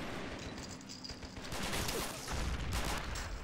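A machine gun team firing in a World War II Allied beach assault on Italy in a war game, a dense continuous rattle of gunfire mixed with wider battle noise, loud and unbroken.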